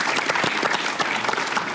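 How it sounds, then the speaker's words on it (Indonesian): A burst of applause from a small crowd, dense clapping that stays even and lively for a couple of seconds. "Tepuk tangan, Bos."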